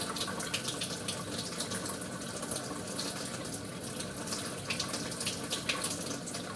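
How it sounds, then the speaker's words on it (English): A kitchen knife is rinsed under a running tap. The water gushes in a steady, close hiss with small splashes as the blade moves through the stream. "Yeah, I like to rinse it."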